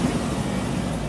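A 1942 Chevrolet with a swapped LS engine idles while warming up, a steady, dense low rumble that holds even and continuous.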